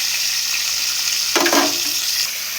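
Slices of pointed gourd fry in a little oil, giving a steady, close hiss of sizzling. Midway, a short burst of stirring or scraping rises briefly over it.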